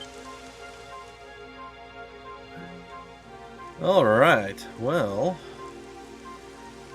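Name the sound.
rain falling, in the video game Dragon Quest XI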